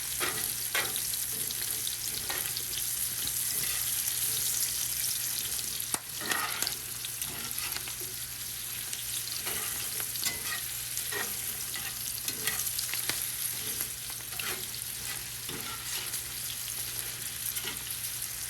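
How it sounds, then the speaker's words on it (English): Vesuvio potatoes sizzling steadily in a pan as they are flipped and turned, with a continuous fry hiss and repeated scraping clatters of the spatula, no voices present. "now I'm finally gonna flip them and turn them"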